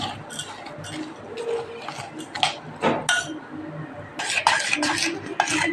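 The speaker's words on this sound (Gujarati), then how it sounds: "આપણે એમાં દૂધ નાખીને મિક્સ કરી નાખીએ આપણે હલાવી નાખશું" A spoon stirs biscuit powder mixed with milk in a bowl, making irregular clinks and scrapes against the dish at close range, with quieter soft mixing between the taps.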